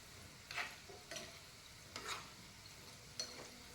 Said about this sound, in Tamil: நல்லா ப்ரௌனிஷாக ஃப்ரை ஆகுது பாருங்கள்.